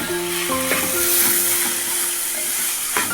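Chicken curry sizzling steadily in a pan as it is stirred, a loud continuous hiss and crackle with a few scraping clinks of the spoon and no talking.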